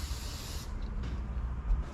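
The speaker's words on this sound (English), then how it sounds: "In this case I'm just using some silicone spray." Silicone spray lubricant hisses from an aerosol can onto a hose fitting in a K-swapped Honda Civic project: one close, steady burst lasting about half a second, then it stops, leaving quiet workshop background.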